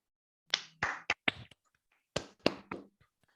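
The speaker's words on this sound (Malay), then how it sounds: "jom kita tepuk tangan untuk Kina" A few people clapping for Kina, a participant in a Malay-language presentation skills session, in short separate bursts of claps, close and fairly quiet with gaps between them.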